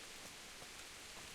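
Steady rain in the Kingdom Come Deliverance video game, a soft, even hiss of falling drops that stays faint and unchanging throughout.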